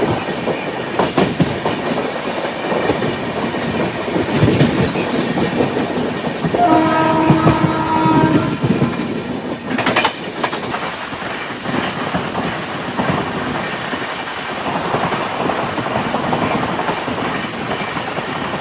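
An express train, the Kerala Sampark Kranti Express, rumbles steadily through rain, with a long horn-like tone rising briefly midway and a continuous heavy rolling roar throughout.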